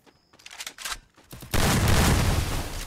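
Gunfire in the mobile shooter game Garena Free Fire: a few scattered shots, then a dense, loud, sustained burst of rapid fire that fills the rest of the moment, with no voices.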